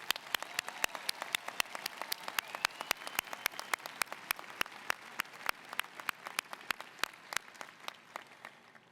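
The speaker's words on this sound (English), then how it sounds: "Let's have another round of applause for all our new doctors." Sustained applause from a large commencement audience at Ohio University's fall ceremony honoring new doctors, steady dense clapping filling the hall for several seconds without letting up.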